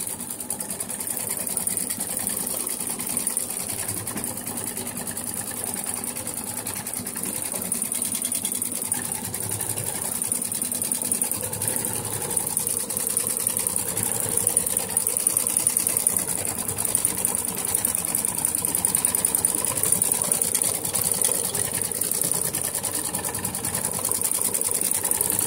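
Brother XV8500D embroidery machine running a continuous applique tacking stitch, a steady mechanical whir with fine rapid needle ticking, close and even throughout with no talk.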